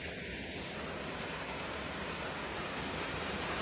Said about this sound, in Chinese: 瀑布就在那边了。